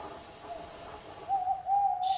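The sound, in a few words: owl hooting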